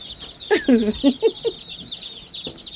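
Several meat chickens cluck in short, choppy bursts at close range, with a steady high hiss of chilly wind or chirping running underneath.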